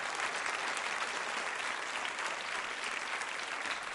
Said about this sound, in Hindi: तालियां जोरों से बजाइए इस संकल्प के लिए आप।